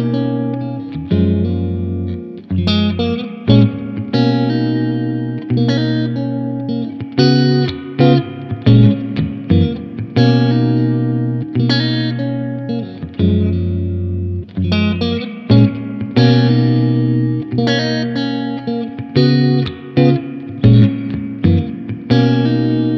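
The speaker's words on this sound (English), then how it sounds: "there you have the beautiful sounds of genuine spring reverb" Electric guitar played through an analog spring reverb into a Series 1 50-watt tube amp head, with strummed chords and picked notes in steady phrases, loud and alone, each note trailing a splashy reverb tail.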